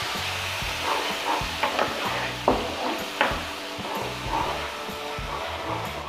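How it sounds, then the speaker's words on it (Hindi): Tomato, ginger and garlic paste with spices fries in a pan for chicken do pyaza, giving a steady close sizzle with occasional stirring scrapes and knocks. "अब इसमें मैं डाल रही हूँ टमाटर, अदरक और लहसुन का पेस्ट, 1 मिनट के लिए अच्छे से भून लेंगे इन सबको।"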